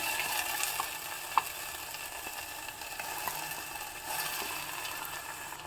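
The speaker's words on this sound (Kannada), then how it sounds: "ಈ ಹಸಿ ವಾಸನೆ ಹೋಗೋವರೆಗೂ ಈ ಮಸಾಲ ಹಾಕಿರೋದನ್ನು ಹುರ್ಕೋಬೇಕು" Ground masala paste with onions frying in tempered oil for a Mangalore Brahmin-style tilisaru, giving a steady close crackling sizzle with one sharp click partway through and no talking.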